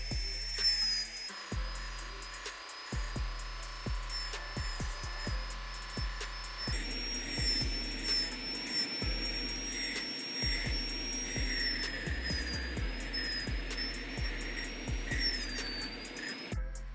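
A handheld rotary tool carves wood along a traced stencil edge, its steady high whine running close and continuous with short bursts and pauses as the bit bites in and lifts off.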